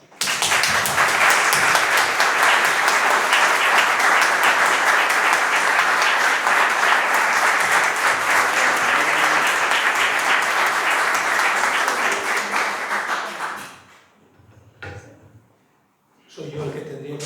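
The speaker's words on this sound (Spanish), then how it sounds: "para que le pida un fuerte aplauso" Strong, dense applause from an audience at a Hispanic Heritage celebration rolls on loudly for about thirteen seconds, then drops away, leaving a brief quiet gap and a few stray sounds.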